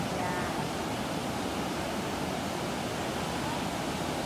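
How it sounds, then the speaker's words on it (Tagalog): Ocean surf rolls in at a Phuket surf beach, a steady broadband roar of breaking waves close by, continuous and loud with no pauses or voices. "Grabe yung alon, nakakatakot."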